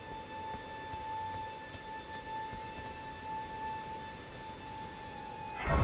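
Steady rain falls in the video game Elden Ring, a dense continuous hiss of drops with a thin sustained tonal hum running through it, swelling into a louder low rumble at the very end.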